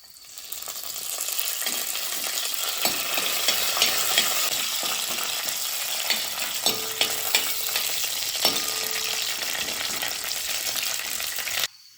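Coconut pieces and curry leaves fry in hot oil with a steady, close sizzle and the scrape of stirring, ending abruptly. No voices are heard.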